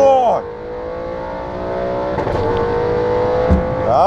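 A modified 2018 Audi RS7 running flex fuel launches from about 3,000 RPM at a drag race, its engine note climbing through the revs and rising again as it shifts, loud and close, with excited voices over it.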